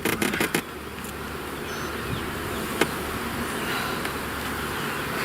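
Honeybees buzzing around a prolific hive, a dense steady hum close by with a few louder passes near the start.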